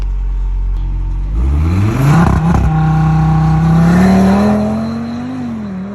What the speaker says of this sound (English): Ollie just did a launch control, and it's the first time I've heard it from the outside, and it sounded epic